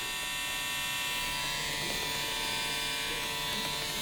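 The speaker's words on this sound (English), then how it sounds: "the Recon Series trimmer. And the clipper, the Recon clipper." Andis Recon Series hair clipper or trimmer running, a steady close electric buzz with a bright whine held evenly for a few seconds.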